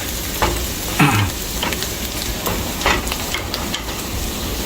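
Buygun (eggplant) frying in a pot with a steady low sizzle, broken by a few scraping stirs that come and go, close by with no talk.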